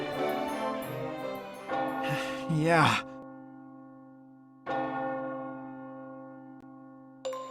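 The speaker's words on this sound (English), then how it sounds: "The bell has struck midnight." A deep church bell from The Guided Fate Paradox video game strikes midnight, with two loud resonant tolls that ring out in long humming decays, after a breathy voiced sigh and groan.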